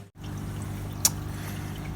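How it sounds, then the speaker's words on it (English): Water running through a hydroponic NFT pipe setup gives a steady low trickling flow that continues throughout, with one brief sharper splash near the middle. "the water's flowing nicely here"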